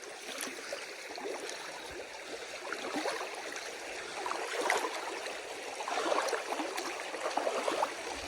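Water splashes and swishes as someone wades slowly, barefoot, through a cold, knee-deep stream on the Appalachian Trail, with irregular sloshing steps over a steady background burble.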